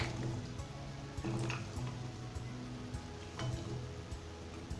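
Cut watermelon rinds being added to sugar syrup in a pan for a candy recipe, giving soft wet drips and squishy splashes, close and moderately loud with no talking.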